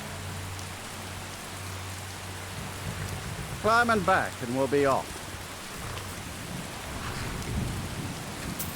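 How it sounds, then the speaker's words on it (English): Steady rain and a low thunder rumble in the video game Skyrim, a continuous wash of rainfall under a carriage driver's brief spoken line in the middle. "This rain will stop eventually. Always does."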